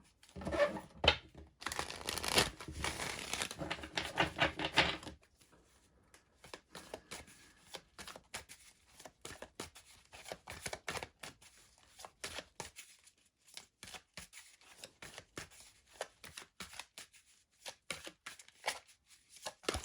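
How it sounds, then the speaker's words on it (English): Tarot cards are shuffled close up: a dense riffling burst for a few seconds, then intermittent soft clicks and slides of cards being handled, no talking. "Alright, so just shuffling my cards now."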